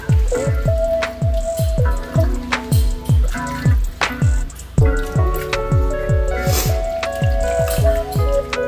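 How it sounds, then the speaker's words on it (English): A pot of neckbone and oxtail stew stirred with a spoon, giving a steady run of wet, squelching and dripping sounds, loud and close, with no talking. "Give that a good stir."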